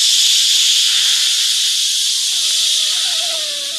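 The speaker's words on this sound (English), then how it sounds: "Steam release" A steam release sound effect gives a loud, steady hiss that runs for several seconds and tapers slightly toward the end, with a faint whistling tone near the close.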